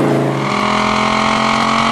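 A 1997 Dodge Viper GTS with its 8-liter V10 engine accelerating hard, a loud, close, rising engine roar that holds strong for two seconds.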